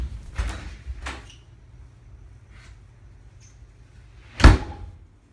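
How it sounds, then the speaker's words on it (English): A house door slams shut once, loud and close with a sharp thud, following a few quieter bumps and knocks earlier in an otherwise still room. "stomped out of the house and slammed the door shut"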